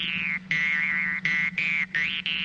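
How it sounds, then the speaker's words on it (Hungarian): Steel jew's harp twanging in a Hungarian maker's workshop, a steady low drone with a bright, wah-like vowel-shaped overtone melody shifting above it, rhythmic breaks every half second or so, close and loud, no voices. "ez a doromb hangja."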